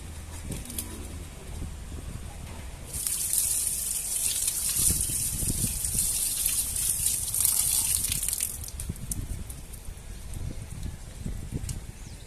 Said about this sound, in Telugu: నీళ్ళు పోసి మళ్ళీ ఒకసారి కడిగి పోసుకరా